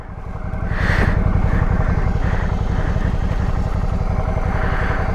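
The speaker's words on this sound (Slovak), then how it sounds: "Motorku nechávam trošku ešte zohrať." A motorcycle engine idles steadily while warming up, a low, even throbbing rumble that rises after the first second and then holds at a constant level close by, with no talking over it.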